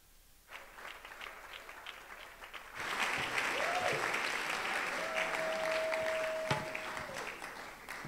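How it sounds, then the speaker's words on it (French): An audience applauds as pastor Viviane Dalo is welcomed at a church service, starting as light scattered clapping and then swelling into full, sustained applause with a brief tone sounding above it. "Pour vos acclamations, nous recevons le pasteur Viviane Dallo"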